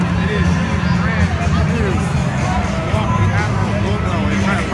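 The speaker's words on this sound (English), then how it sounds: "It is a big crowd here." A large, loud indoor crowd at the Milwaukee Admirals All Aboard event fills the space with constant babble while someone talks up close over it.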